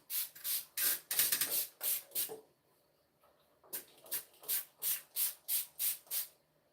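A spray bottle mists water onto long 4c hair in quick, sharp hissing bursts, a first cluster, a short pause, then another rapid run of about eight evenly spaced squirts, close and clear.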